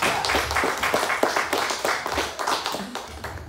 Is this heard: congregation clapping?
yes